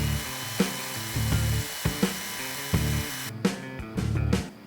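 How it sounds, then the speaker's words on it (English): Metal rod pins spun in a cordless drill and held against a file to chamfer their edges, giving repeated short whirring grinds with sharp scraping onsets, several bursts separated by brief pauses, close up. "I'm gonna chuck them in the cordless drill and hold them under the file"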